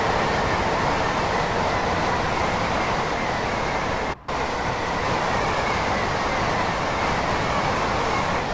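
A Gatwick Express train rushes past in Train Sim World on the Brighton Main Line, a loud steady roar of rolling wheels and rushing air with one brief dropout midway.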